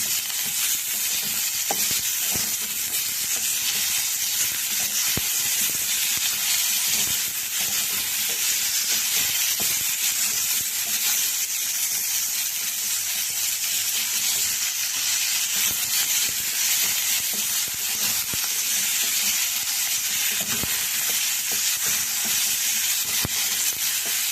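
Onion, tomato and coriander sautéing in a pan, a constant bright sizzle and hiss with occasional soft stirring scrapes, close and steady throughout.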